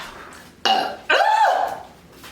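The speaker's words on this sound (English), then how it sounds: "I gotta let me do a little bit more burp on command." A loud, close burp on command after chugging ginger ale soda: a short croak followed by a longer, drawn-out belch that fades away, with no talk.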